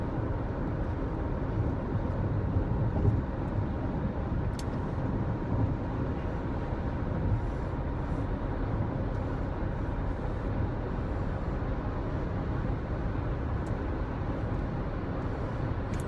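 A car cruising steadily along a road, heard from inside the cabin as a continuous low engine and tire rumble with road noise, unchanging and without talk for the whole stretch.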